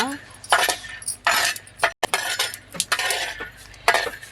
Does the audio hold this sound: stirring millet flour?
yes